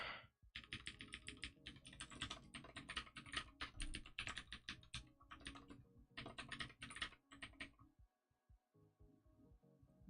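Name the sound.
computer keyboard typing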